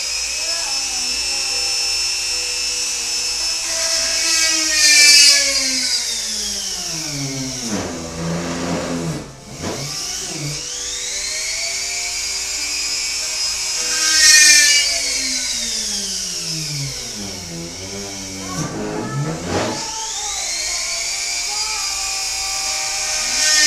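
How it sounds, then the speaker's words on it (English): A power drill pre-drills holes in a ukulele case, with repeated rising and falling whines from motor spin-ups and bites into the workpiece, close and fairly loud, about three cycles with pauses between. "I'm going to go ahead and pre-drill the rest of these"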